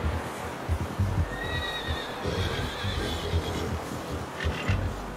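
A horse whinnies with a rising, wavering cry over steady hoof clops and a dense low rumble, in the video game Red Dead Redemption 2.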